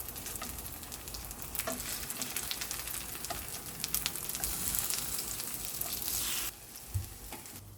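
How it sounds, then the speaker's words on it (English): Oil sizzles and crackles steadily in a pan as zucchini pancakes fry slowly until golden, close up, with occasional small pops and a brief clink near the end. "Pan fry slowly until golden brown on both sides."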